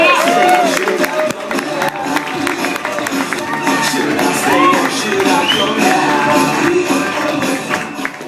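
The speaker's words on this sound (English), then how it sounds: "Do some stamping your feet. Clap your hands. Scream and shout." A comedy-night crowd claps, cheers and stamps to welcome a new act, a loud, dense, continuous roar of hands, shouts and thuds close by for the whole stretch.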